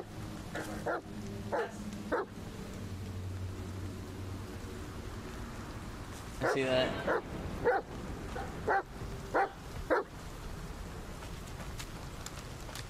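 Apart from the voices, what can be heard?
dog barking in the video game The Medium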